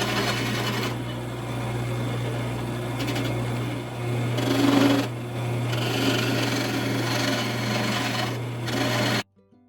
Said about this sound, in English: my dad is running the lathe and sanding down the 2 handles